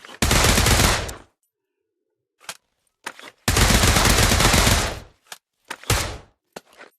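Automatic rifle bursts in the VR shooter Pavlov on fire rate mode: two long loud sustained bursts separated by silence, with a few short separate shots and clicks in between.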